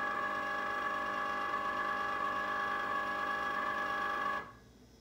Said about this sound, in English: Now I'm going to power on the machine